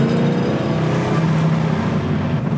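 Chevrolet Chevelle engine pulling hard off idle, a loud continuous close-up roar with steady low rumble and no voices over it.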